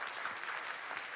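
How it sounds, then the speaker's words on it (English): A live audience at a charity speedrunning marathon event applauds for a Halo: Reach Legendary co-op run, a brief burst of steady, many-handed clapping heard at a moderate distance. "give some applause to that, audience."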